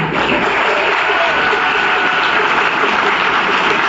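Loud, dense applause fills the room steadily from start to finish, a large crowd clapping together at a family or community gathering in Poland.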